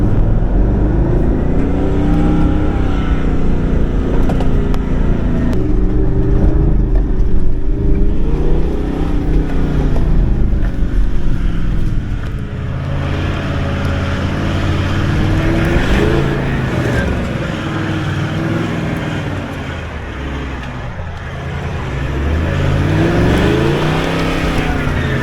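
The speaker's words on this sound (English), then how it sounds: "listen to the symphony of VDJ Cruiser" A Toyota Land Cruiser VDJ V8 diesel rumbles and revs through repeated rises and falls, loud and close, with a deep throbbing drone that persists for about twenty-five seconds.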